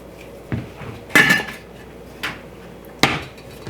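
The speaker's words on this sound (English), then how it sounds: "And then I use my spatula, scrape around, make sure I've got everything mixed in." A spatula scrapes and knocks around a bowl while mixing, giving a few sharp, close clinks and scrapes spaced irregularly over a quiet background.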